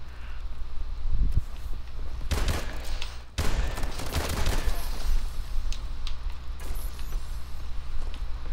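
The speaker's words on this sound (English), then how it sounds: "Why is there fireworks near me?" In a Call of Duty: Advanced Warfare match, fireworks go off near the player as rapid crackling bursts in two clusters over a steady low background hum, fairly close.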